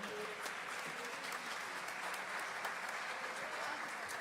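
A church congregation claps together in sustained applause, a fairly distant, even wash of hand claps with some voices mixed in underneath.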